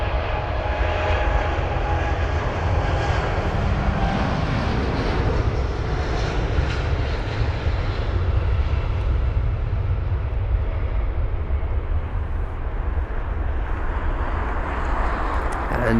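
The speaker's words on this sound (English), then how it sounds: "what we have got is going to be the Virgin Atlantic 787. 9 Dreamliner off to San Francisco" A Virgin Atlantic Boeing 787-9 Dreamliner departs London Heathrow for San Francisco, its engines making a loud, steady, broadband roar that holds for the whole stretch, with no voices over it.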